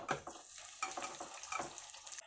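Roasted chickpeas sizzle and fry in a pan while being stirred for a homemade gram-flour mixture snack, with a steady crackling sizzle and scraping stirs close by and no talking.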